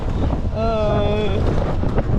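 Strong wind roars and buffets the microphone in a loud, unbroken rumble. A short tonal sound rises briefly in the middle.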